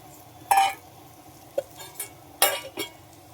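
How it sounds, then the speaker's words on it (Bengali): Cauliflower and potato being stirred into masala in a pan, several sharp spoon scrapes and clinks against metal at irregular intervals over a faint low sizzle, close and fairly loud. "তো এটাকে আমি এখন মিক্স করব, ভালো করে মিক্স করে 5 মিনিট ঢেকে একটু কষাবো।"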